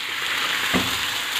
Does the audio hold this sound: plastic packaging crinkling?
no